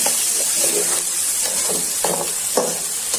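Green peas frying in a pan for a prawn bhuna, a dense close sizzle and hiss with scraping stir strokes coming in repeated bursts.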